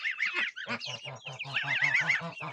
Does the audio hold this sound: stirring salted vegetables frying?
no